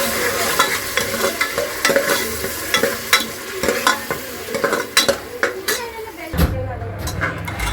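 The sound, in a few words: tomato and masala frying in a pan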